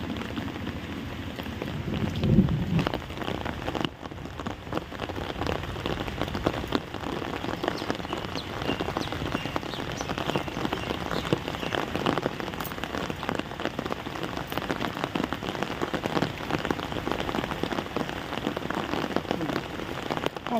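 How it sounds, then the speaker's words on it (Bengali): Steady rain falls outside a house onto a muddy road, a dense, constant patter of drops on surfaces that continues unbroken for the whole stretch, with occasional light gusts. "বাইরে হচ্ছে বৃষ্টি"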